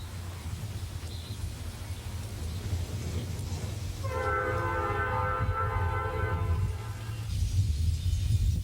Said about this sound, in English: Shortly after the NS local clears the junction, Conrail local WSNA 82 rolls through town.